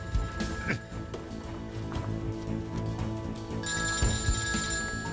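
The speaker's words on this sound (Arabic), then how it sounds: "اسمعوا وين عم يرن هذا الموبايل" An electronic phone ringtone trills in repeated bursts over a busy, noisy background with thumping and clattering sounds.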